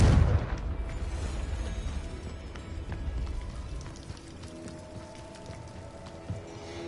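A Confringo blasting curse in Hogwarts Legacy bursts with a low boom at the start, and a crackling, rain-like rumble of debris trails off through the rest.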